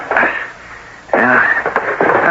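An actor sneezes in a 1976 CBS Radio Mystery Theater drama, two sharp, close sneeze bursts with a wheezy intake between them, set against a quiet room background.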